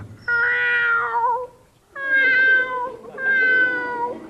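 A voice imitates a cat with three drawn-out meows, each a clear wavering tone separated by brief pauses. The meows sound close and moderately loud with nothing else behind them.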